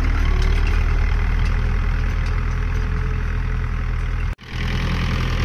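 A large tractor working a wheat-sowing field runs with a steady, loud, droning engine note that carries on unbroken apart from one sudden brief dropout near the end.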